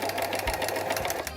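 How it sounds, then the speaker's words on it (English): A sewing machine runs steadily, stitching fabric very close to the edge while a blouse is made, its needle chattering in a quick, even rhythm, close and clear, with no talking for about a second and a half. "sew very close to the edge"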